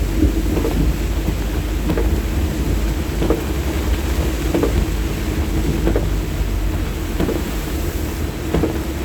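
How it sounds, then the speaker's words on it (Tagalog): Steady, dense heavy rain roars throughout, heard from indoors, with occasional low rumbles and thuds, loud and close with no talking. "Malakas ang ulan"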